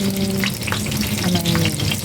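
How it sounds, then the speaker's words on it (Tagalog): Chili peppers fry in a pan with a steady, close crackling sizzle and a few stirring scrapes, no voices over it. "Niluluto ko na ang aking sili."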